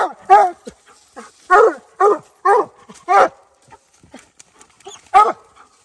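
Hunting dogs barking in a swamp at night, a series of loud, close, separate barks in an uneven rhythm with short quiet gaps between them.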